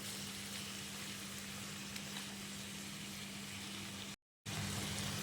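Chopped onions, tomatoes and green chilies sizzle steadily in a pan, a close, even frying hiss with soft stirring, briefly cut off near the end.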